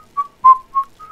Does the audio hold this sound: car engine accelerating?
no